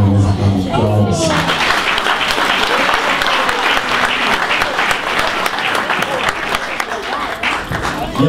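Sustained, dense applause from a church congregation, loud and steady for several seconds after a brief opening of voices, with a full crowd clapping throughout.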